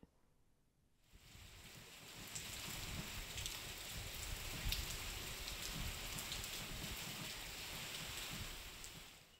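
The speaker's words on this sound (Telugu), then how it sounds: "ఉరుములు మెరుపులతో కూడిన భారీ వర్షం పడింది" Steady, dense rain pours down during a Telangana storm after a quiet first second, a constant heavy hiss with no clear thunder standing out.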